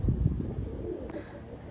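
A pair of Pakistani teddy pigeons giving soft, low throaty coos at close range, a few quick pulses that then fade into quiet background.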